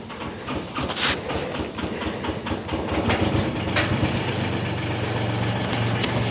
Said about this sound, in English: Yay! The tractor started!